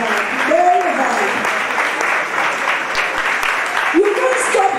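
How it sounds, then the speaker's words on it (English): Audience applause at a school closing ceremony for a digital test event, steady dense clapping throughout with a voice talking over it. "Please keep clapping for them."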